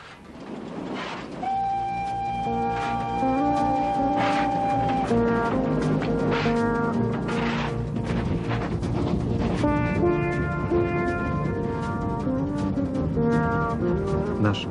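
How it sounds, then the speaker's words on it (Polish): A vintage steam locomotive tourist train from Wolsztyn, Poland, departs loudly, with sustained horn-like whistle tones over rumbling, rhythmic chuffing as it pulls away, continuing steadily throughout. "Nasz zabytkowy turystyczny pociąg wyruszył w drogę."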